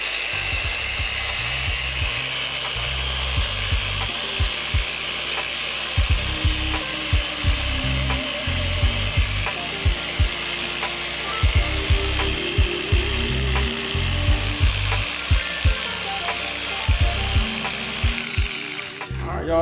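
A power polisher whirs against the painted fender of an Indian Challenger motorcycle, a steady close-up buzzing with rubbing tones and light knocks throughout.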